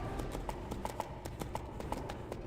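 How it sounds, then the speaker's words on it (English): Horse hooves clip-clopping at a walk through a cave in the video game EverQuest 2, a steady rhythm of quick, echoing taps over a hollow reverberant background, moderate in level. "they actually included an echoing sound for the hooves when you're walking as a horse in a cave"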